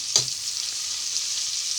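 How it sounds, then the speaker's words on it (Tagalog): Onion, tomato and garlic sauté in rendered meat fat, giving a steady, bright sizzle from start to finish, close up, with one brief clink of a utensil at the start and no talking. "nagigisa nga pala tayo ng sibuyas, kamatis at bawang"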